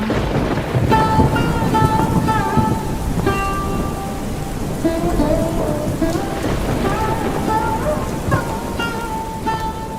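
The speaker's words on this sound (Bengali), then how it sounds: "আকাশে জল ঝরে অনিবার" Steady heavy rain in a thunderstorm, a loud dense wash throughout with faint rumbles, overlaid by a singing voice and music.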